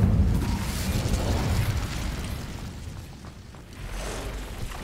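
A fire spell in Hogwarts Legacy erupts with a deep booming whoosh that swells loud at first, then rumbles and fades before a smaller burst near the end.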